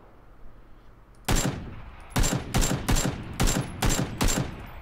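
Gunfire in the video game PlayerUnknown's Battlegrounds: after a quiet stretch, a rapid series of about seven loud, sharp shots rings out in quick succession and stands alone without speech.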